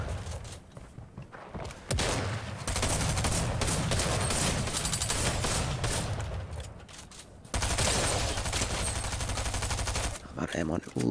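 Video game gunfire rattles in dense, loud bursts through most of the stretch, with a brief lull before erupting again near the end, and a player's voice breaking in over the shooting.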